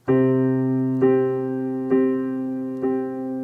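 Piano tones sound as a sustained low bass note held in the left hand, while the right hand strikes four evenly spaced chords about a second apart, each ringing and decaying into the next; no talking.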